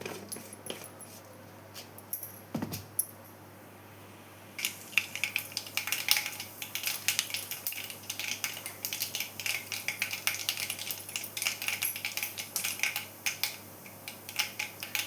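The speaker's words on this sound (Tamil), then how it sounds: "கடுகு, உளுந்த பருப்பு, கடலைப்பருப்பு சேர்த்து பொரிச்சுக்கலாங்க." Mustard seeds, urad dal and chana dal spluttering in hot oil for a Tamil masala kulambu, a dense run of sharp crackles and pops that starts after a quiet opening and continues steadily.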